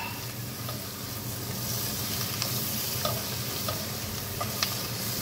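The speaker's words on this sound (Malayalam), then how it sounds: "ഇനി നമുക്കിതിലേക്ക് നമ്മുടെ അരിഞ്ഞു വെച്ചിരിക്കുന്ന ടൊമാറ്റോ ഇടാം" Chopped tomatoes sizzle in a pan for butter chicken, a steady, fairly quiet fry with a few faint clicks of stirring and no voices.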